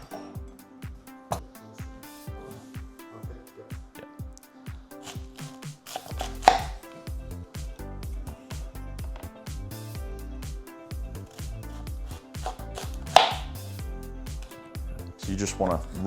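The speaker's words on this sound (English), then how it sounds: "So now we're going to shred the 2 cabbage." A knife chops steadily through green cabbage on a board, shredding it roughly for a creamy coleslaw. The cuts come in fast, close, repeated strokes for the whole stretch, loud and dry, with occasional sharper knocks and no talk over them.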